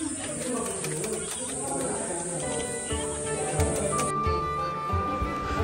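Live pigeons coo in an enclosure at Sanjay Gandhi National Park, low rhythmic calls mixed with other bird chirps and a steady high insect-like whine, while people talk nearby.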